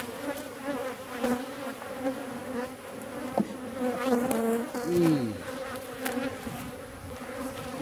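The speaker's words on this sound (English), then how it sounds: "There's plenty of bees going in and out." A swarm of honeybees buzzing around a hive infested with wax moth larvae, a dense steady hum with individual bees droning close by and one louder bee swooping past the microphone midway.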